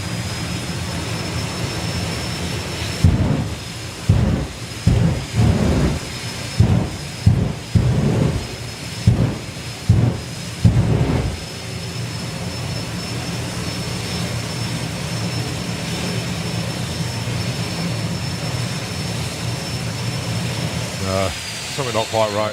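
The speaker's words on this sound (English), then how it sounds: "So Perry will build the thrust up once again" Doorslammer drag racing car at a 2024 meet builds thrust with a rapid series of loud engine blasts, then holds a steady, powerful roar that ends in a rising whine.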